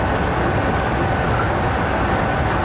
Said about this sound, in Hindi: 9:08 पे 46 डाउन पाकिस्तान एक्सप्रेस